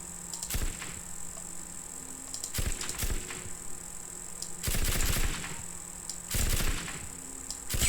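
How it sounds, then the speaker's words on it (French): Bursts of gunfire in the game Teardown, shooting at a train station and crashing debris, four loud clustered volleys separated by quieter gaps, no talking. "Donc je tire sur ça et il va y avoir tout qui va s'effondrer"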